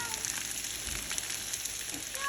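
Vegetables with minced garlic sauteing outdoors, a dense steady sizzle filling the clip at moderate loudness with a couple of soft thumps underneath.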